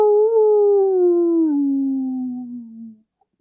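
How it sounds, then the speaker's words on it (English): A single long howl from a dog or wolf outdoors near water, clear and sustained for about three seconds, slowly falling in pitch before it stops. "you hear a chorus of these howls go up in slightly different directions"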